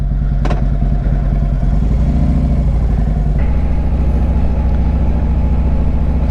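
A Harley touring motorcycle pulls away onto the road, its engine a steady, loud rumble with a rising rev partway through, heard close and alone without talk.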